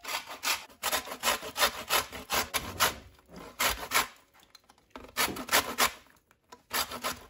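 Lime zest grated off the fruit for homemade elderflower champagne, a close, loud run of rhythmic rasping strokes in quick back-and-forth bursts with two brief pauses, no talk over it.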